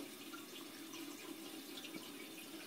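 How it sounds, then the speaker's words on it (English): Water runs steadily from a kitchen tap, a close, even hiss with no pauses and no voices over it. "You want cold or you just out the tap?"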